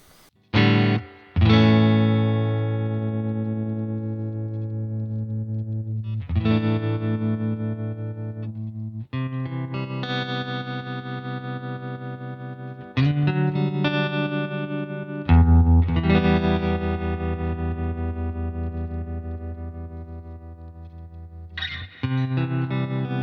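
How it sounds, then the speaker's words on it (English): Electric guitar played alone through a UAFX Dream '65 Reverb amp modelling pedal with a pulsing vibrato effect, sustained chords and notes ringing with a wavering, warbling quality. "let's listen to some vibrato"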